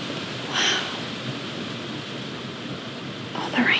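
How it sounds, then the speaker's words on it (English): Heavy rain falls as a loud, steady wash of white-noise patter, with a couple of brief brighter sounds over it and no clear speech. "Oh, the rain is gorgeous."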